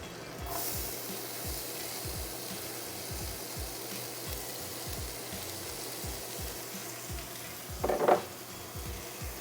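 Onions frying in a pan on medium heat for a corned beef cottage pie, a steady soft sizzle with repeated low scraping stirs, and one louder clatter near the end.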